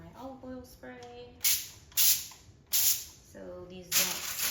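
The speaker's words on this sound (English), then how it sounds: "then I just take my olive oil spray" An olive oil spray can mists vegetables on a foil-lined tray, giving three or four short sharp hissing bursts with pauses between them, while a person talks in between the sprays.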